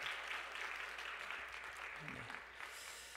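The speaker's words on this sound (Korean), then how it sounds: "우리 박수로 환영하겠습니다." A church congregation at a worship service claps steadily to welcome visiting missionaries serving in Malaysia and Mongolia, a dense, even wash of applause from many hands lasting about three seconds.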